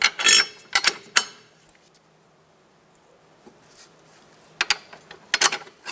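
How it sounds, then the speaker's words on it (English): Metal strut bolts are fitted into a replacement front steering knuckle on a 2012-2016 Subaru Impreza. Sharp metallic clinks and knocks come in short clusters at the start and the end, with a quiet stretch between. "We're going to put the strut bolts in first."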